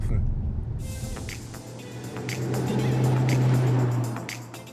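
Mercedes-AMG CLE 53 coupe engine giving a deep, rich, sporty note that swells and fades, close and fairly loud, with someone talking over it.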